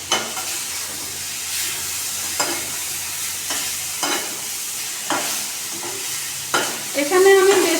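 Soya chunks fry in a pan with a continuous loud sizzle and hiss, and stirring strokes scrape through it every second or so.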